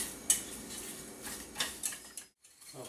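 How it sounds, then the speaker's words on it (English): Spoon clinks and scrapes against a pan while heavy cream, butter, sugar and salt are stirred over heat, a few sharp metallic taps standing out over a steady low simmering rumble, ending in a brief silence. "stirring the whole time"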